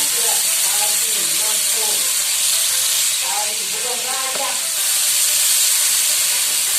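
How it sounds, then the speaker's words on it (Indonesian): A ground spice paste sautés in hot cooking oil, a loud continuous sizzle and hiss with some stirring, while a voice talks over it during preparation of a risol filling. "Lalu kita tumis bumbu yang dihaluskan tadi."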